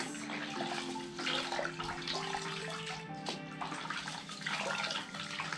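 A horse grooming brush is dunked and swished in a bucket of water, giving a continuous close splashing and sloshing with bubbly trickles.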